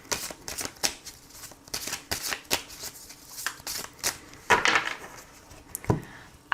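Tarot cards being shuffled for a reading, a run of quick papery riffles and soft slaps in an irregular rhythm, close and fairly clear, with no talking over them.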